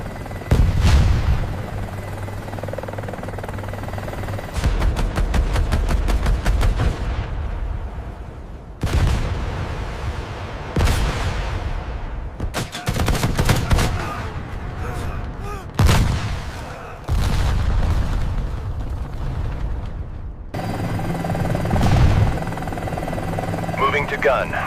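Apache helicopter cannon firing at targets in a D-Day battle scene, repeated loud bursts of rapid fire over a constant rotor and engine drone, with heavy explosive booms between volleys and voices heard intermittently.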